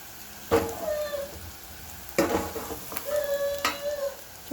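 Boiled potatoes added to frying onions in a pan and stirred, with three sharp scraping clatters of a spoon against the pan over a soft sizzle, close by.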